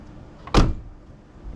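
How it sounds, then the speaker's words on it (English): The door of a 1983 Toyota Corolla Wagon shuts with a single loud, solid thud, close by, followed by quiet. "See how this door shuts."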